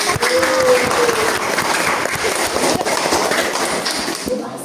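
Loud, dense applause from an audience at the end of an Islamic religious education teaching practice session, sustained clapping throughout with faint voices mixed in, tapering a little at the close.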